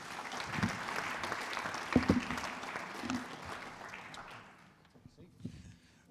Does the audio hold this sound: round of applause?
yes